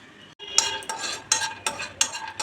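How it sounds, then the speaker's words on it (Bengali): Almonds, cashews and walnuts dry-roast in a wok without oil or ghee, stirred with a metal utensil in four or five loud, rhythmic scraping rattles as the nuts tumble against the pan. "কড়াতে ভালো করে নেড়ে চেড়ে একটু ভেজে নেব। শুকনো খোলা, তেল না, তেল কিংবা ঘি কিছুই না।"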